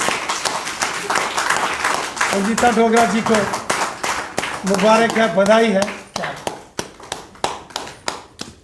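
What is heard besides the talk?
loud applause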